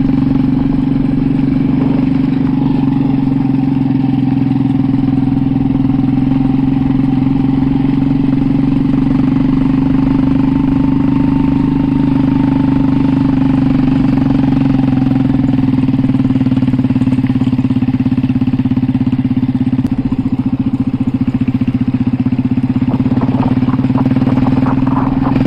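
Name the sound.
motorcycle engine running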